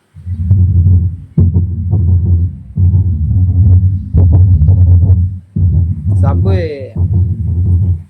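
Deep subwoofer bass pulses thump heavily from an IC radio amplifier during a 4.1 sound check, booming in repeated rhythmic bursts with brief gaps and a short higher-pitched sweep near the end.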